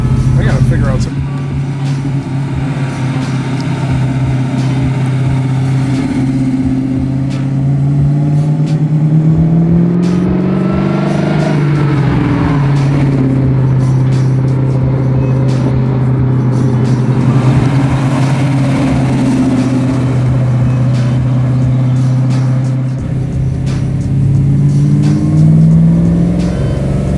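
Big block 1967 Chevy Chevelle restomod engine cruising on the street, a steady low rumble with gentle rises and dips in revs throughout, heard from inside with people talking over it.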